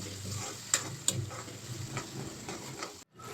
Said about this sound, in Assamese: আৰু এতিয়া এইখিনিও ধুনীয়াকৈ ভাজি ল'ম